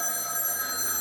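Old landline telephone retrofitted from a grandfather's house, its bell ringing continuously in a bright metallic trill for about a second, close and clear, no voices.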